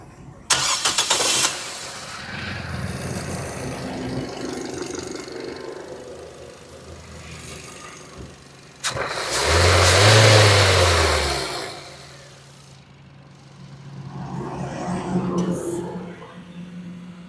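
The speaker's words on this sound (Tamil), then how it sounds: "இப்போ இருங்க நான் இங்கேருந்து உங்களுக்கு வண்டியை ஸ்டார்ட் பண்ணுறேன்" A Nissan Sunny car engine cranks and catches, then settles into an idle, rises in a strong rev, drops back, and revs again more softly, with someone talking between the bursts.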